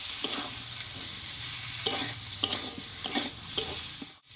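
Pointed gourd sautés with spices in a pan, producing a steady sizzle punctuated by repeated rhythmic scrapes of a spatula, close and fairly loud, ending abruptly.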